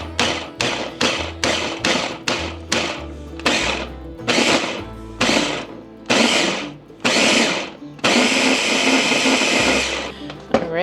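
A blender pulsing a crumb mixture of cinnamon and pure cane sweetener for a keto coffee cake: a run of short, loud, whirring bursts with brief gaps, followed by a longer continuous spin near the end, close and with no voices.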